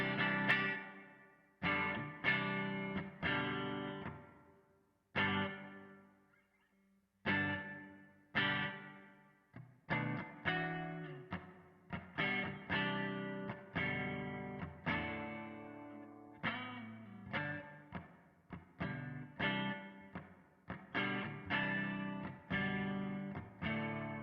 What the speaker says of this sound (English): here is our clean sound with nothing but just the amps and that bit of